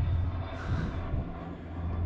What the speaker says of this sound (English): Oh, there's that plane again.